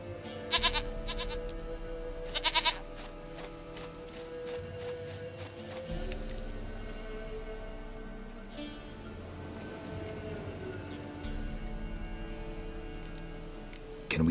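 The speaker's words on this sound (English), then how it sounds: "Goat of mine, dearest, sweetest goat." Goat bleating among ambient game sounds, two short bleats in quick bursts near the start, fairly close, with steady background noise continuing afterward.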